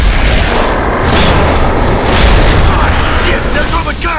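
Heavy, loud explosion in the Gears of War 3 game as the guns are destroyed, a sustained rumbling boom filling the whole stretch with deep roar and debris noise.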